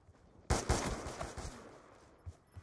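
Rapid video-game gunfire from a select-fire gun: a loud burst breaks out after a short quiet stretch, then trails into a dense crackling tail with a couple of softer later shots.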